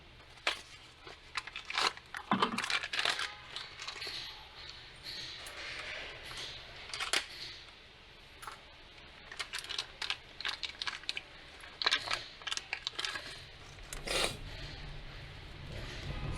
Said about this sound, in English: I'm just gonna open the box.